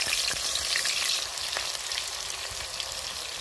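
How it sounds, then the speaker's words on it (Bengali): Potatoes fry in hot oil in a wok, giving a steady, close sizzle and crackle throughout with no talking. "কড়াইতে দেখো তেল গরম হয়ে গেছে, একটা একটা করে আমি দিয়ে দেবো"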